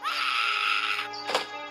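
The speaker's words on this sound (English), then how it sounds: "What is that scream?" A long, high, wailing scream from the Hello Neighbor video game rings out steadily for about a second before breaking off, followed by a brief sharp cry.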